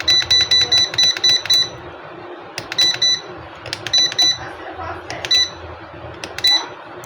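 An automatic incubator's over-temperature alarm beeps loudly and close in rapid bursts of shrill electronic tones, pausing and restarting several times, with a voice talking underneath.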